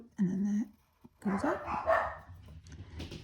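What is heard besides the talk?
dogs barking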